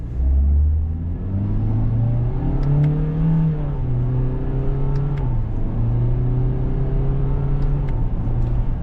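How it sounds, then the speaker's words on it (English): 2025 Toyota Corolla SE Hatchback accelerating in manual Sport mode with paddle shifts, the engine note rising steadily then dropping at each simulated gearchange before climbing again, a loud continuous cabin drone. "I'm going to move the gear shift to the left into manual, and I'm going to shift with the paddles,"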